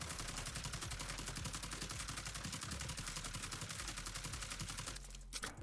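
An AUG rifle fires a full magazine in Call of Duty Warzone, a rapid, sustained stream of evenly spaced automatic shots that runs continuously for about five seconds before stopping abruptly.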